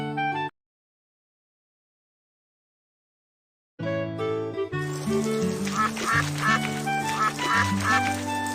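A cartoon duck in a pet hospital rescue game quacks loudly and repeatedly over bright, tinkly game music. A short burst of sound comes first, then silence, then steady quacking that continues to the end.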